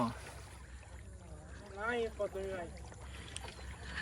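Water sloshing and splashing around a small boat as it is rowed on an evening fishing trip, with a person talking briefly in the middle over steady low background noise.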